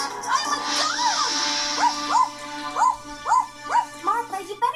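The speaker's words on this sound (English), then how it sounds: "Where did that dog come from?" A collie barks in a quick series of sharp, close barks with whiny yips, about eight in under five seconds, growing more rapid toward the end.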